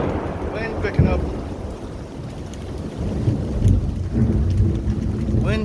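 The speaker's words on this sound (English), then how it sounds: "Wind picking up." Storm wind rising in central Texas amid rain and thunder, a loud rushing roar with rumbling gusts that swell toward the end as voices talk over it.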